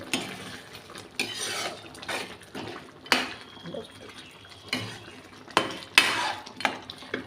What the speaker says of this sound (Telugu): మటన్ మసాలా కూడా వేసాము బాగా కలుపుకోవాలి